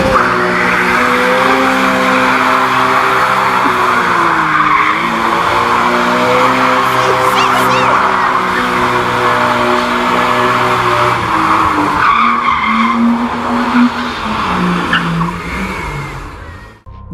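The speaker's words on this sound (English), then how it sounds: "In Need for Speed Shift, the players must use an E36 M3 in a drift competition event in London." A BMW M3 E36 drifts through a London drift competition event in Need for Speed Shift, its engine revving hard under long sustained tire squeals, the pitch rising and falling as it slides, loud and close throughout.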